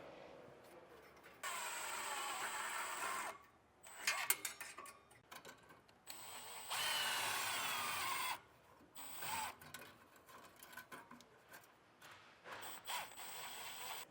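A power drill tightens a bolt while a Pacbrake Alpha HD Pro air bag suspension kit is installed. It gives two sustained whirring bursts close by, with softer mechanical clicks and handling noise between them.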